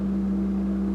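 An Austin pipe organ at Luther Memorial in Madison sounds middle C on a 32-foot stop, giving a steady, deep sustained drone with layered low tones, even and unbroken from start to finish.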